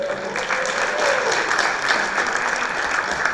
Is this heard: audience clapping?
yes